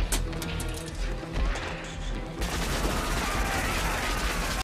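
Gunfire from the action film Die Hard: rapid bursts of shots and crashing impacts, with a sharper, denser barrage in the second half, heard over a movie soundtrack.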